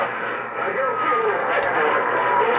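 Steady hiss and crackling static from a Royce 639 CB radio receiver, with faint garbled traces of distant transmissions and a couple of brief pops.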